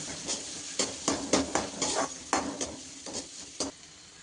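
Onion and green chilli sautéing in butter for masala Maggi, with a soft steady sizzle under repeated sharp scrapes and clinks of a spoon against the pan, no talking.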